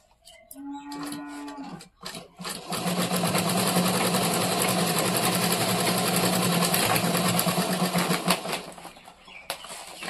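A sewing machine stitches a bag made from a mint sack, running in a steady loud whirring drone for several seconds after a brief start, close up with no talking.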